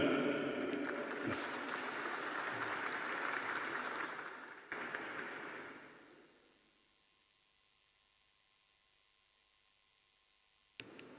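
Delegates at a Trabzonspor extraordinary general assembly meeting break into broad applause that fills a large hall, then fades to near silence after about six seconds.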